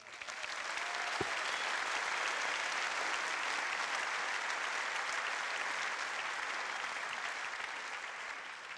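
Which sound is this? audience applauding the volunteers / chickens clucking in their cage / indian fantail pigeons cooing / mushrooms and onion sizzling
audience applauding the volunteers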